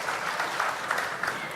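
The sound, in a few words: audience applause welcoming Supreme Master Ching Hai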